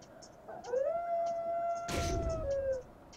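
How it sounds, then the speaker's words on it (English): A dog-like creature's howl used as an attack in a World of Warcraft pet battle: one long sustained rising-then-level howl, with a short burst of battle effects near the end. "Let's do a howl."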